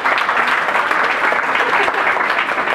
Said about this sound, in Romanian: merită aplauzele astea